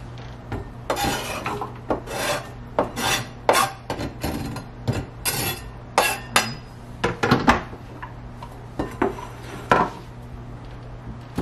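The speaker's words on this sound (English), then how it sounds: "you're chopping up an onion" Repeated knife strokes chopping an onion on a cutting board, irregular chops and scrapes close by, with a steady low hum underneath and no talking.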